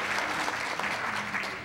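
Audience clapping in a ballroom at an author award event, a dense, sustained round of applause from a crowd at fairly close range.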